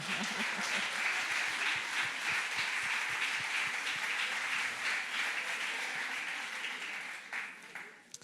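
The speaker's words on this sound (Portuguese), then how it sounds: "Uma salva de palmas para esta mãe, não acham?" Audience applause at a reading and literature conference, a sustained wash of many hands clapping close and fairly loud with a few voices underneath, thinning toward the end.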